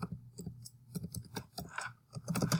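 Clicky typing on a computer keyboard in an office, quick irregular keystrokes close up, with a louder burst of clacks near the end.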